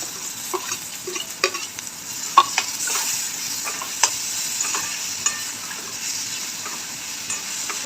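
Chopped tomato and masala with chilli and coriander powder sizzling in a pan for suran bhaji, a steady frying hiss broken by scattered scraping clicks of the spoon stirring.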